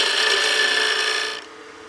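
Lathe tool cutting a small wood gnome ornament blank while squaring the end: a steady, bright whirring scrape holds for about a second and a half, then stops abruptly, leaving a low motor hum.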